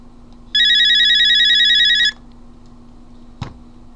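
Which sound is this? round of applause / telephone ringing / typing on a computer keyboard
telephone ringing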